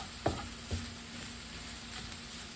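Ground meat, onions and garlic sauté in a pan with a faint, steady sizzle, broken by a couple of soft utensil knocks near the start. No one speaks.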